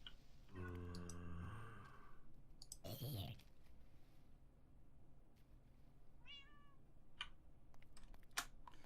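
A cat meows repeatedly in the Minecraft game, its harmonic cries rising and falling alongside clicking sounds and a brief burst of noise, heard fairly close.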